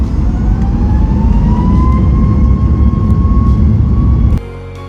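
A Boeing 737 jet airliner in flight on a Reykjavik to Seattle route produces a loud, steady cabin roar with a slowly rising engine whine, then cuts off abruptly near the end.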